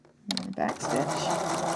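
A sewing machine stitches backward through faux fur applique, a short close mechanical whir that starts abruptly and runs steadily for about a second and a half.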